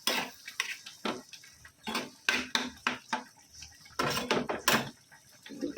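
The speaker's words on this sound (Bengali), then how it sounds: "দুটো বাসন আছে, ধুয়ে নিই।" Two pots and utensils being washed in a home kitchen, with close, repeated metallic clanks, knocks and scrapes in an irregular rhythm and short pauses between bursts.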